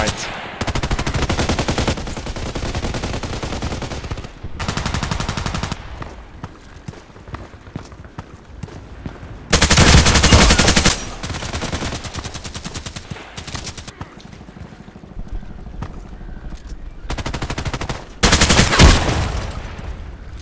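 Rapid bursts of AUG A3 assault rifle fire in the shooter game Contract Wars, several loud sustained volleys separated by short pauses, with quieter footsteps and game noise between them.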